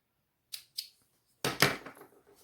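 Snips cut beading thread in two quick, sharp snaps, followed a beat later by a louder, closer pair of clicks with a brief rustle, heard alone without talk.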